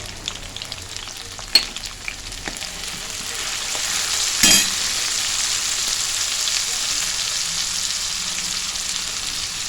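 Mango pieces frying in oil give a steady crackling sizzle, with a few sharp utensil clicks early on and a brief louder burst midway, close by.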